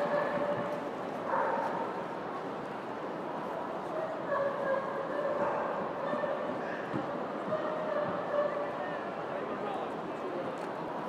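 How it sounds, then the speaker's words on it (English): Dogs bark and yip at a dog show in a large hall, short, scattered, fairly distant yelps over steady crowd noise while an announcer speaks. "She's 16 years old and handling Mabel the Rottweiler."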